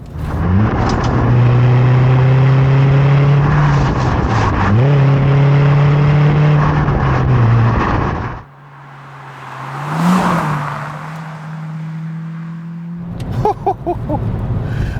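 A Peugeot 206 GTi hot hatch revs hard while driving, its engine climbing loudly through two long pulls with gear changes, then easing off to a quieter drone and a brief blip near the end.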